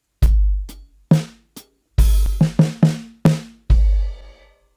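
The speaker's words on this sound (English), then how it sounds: "So instead of rack tom to floor tom, now it's all on the snare." A drum fill struck on a snare alone: a few spaced hits, then a quick run of sharp strokes ending on a ringing final hit.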